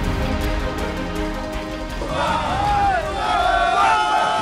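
Crowd of protesters in central Baghdad pulling down Saddam Hussein's statue, a dense, continuous roar of many voices with shouts rising in the second half, loud and close.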